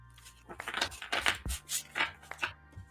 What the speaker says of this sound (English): Let me get this deck all nice and shuffled.